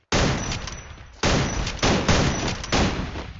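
Gunfire in the Free Fire video game, with loud bursts of rapid shots in several separate volleys, each one sharp at the start and then trailing off.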